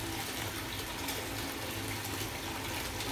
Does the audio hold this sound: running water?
yes